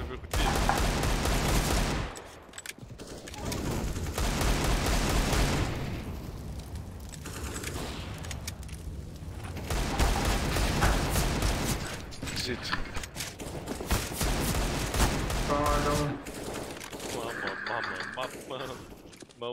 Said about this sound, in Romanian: Mă doare capul de la împușcături